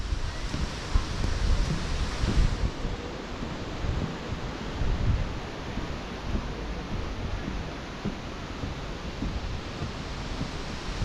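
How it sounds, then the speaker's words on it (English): Strong wind gusting outdoors beside a river and small pond in Kuldīga, Latvia, a steady broadband rush buffeting the microphone for the whole stretch, loud and close with no voices. "It's quite breezy out here."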